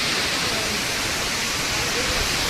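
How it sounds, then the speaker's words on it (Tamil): Silver Falls in Kodaikanal pours down in a constant, dense hissing roar of falling water, steady and enveloping with no breaks. "இதுதாங்க சில்வர் ஃபால்ஸ்."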